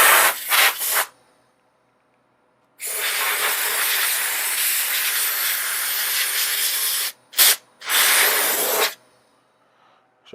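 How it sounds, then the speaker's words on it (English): Aerosol spray hisses in bursts against the backs of vintage 1992 Banshee bar and hardware parts: two short puffs, a long steady spray, then a quick puff and another longer burst, close and loud. "And don't forget to spray off the backs."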